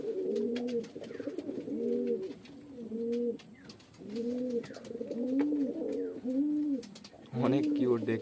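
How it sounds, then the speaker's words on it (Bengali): Fancy pigeons on a farm coo in a steady rhythm of deep, rolling calls, about one every second, close and clear over a faint background hum. "অনেক কিউট দেখতে পায়রাটা"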